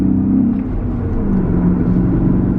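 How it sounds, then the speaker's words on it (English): A BMW E39 M5 engine running as it warms up under light load while driving, a steady loud low rumble and hum with no revving, alone without talk. "Engine is warming up a little bit."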